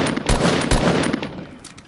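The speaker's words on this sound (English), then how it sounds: "I think I got sniped at too." Gunshots in Fortnite Battle Royale: two sharp, loud cracks about half a second apart, the second followed by a decaying rattle and echo, with no voices.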